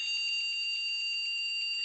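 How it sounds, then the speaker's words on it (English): A computer's power-on self-test beep sounds as a steady, shrill electronic tone held unbroken for about two seconds, loud and alone with no talk over it, from a machine with a suspected POST fault. "Here comes the beep."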